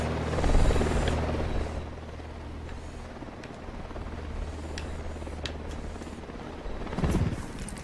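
Helicopter flying in a video game, a steady rotor drone with low thumping that stays close throughout, plus a few sharp clicks and a brief swell near the end.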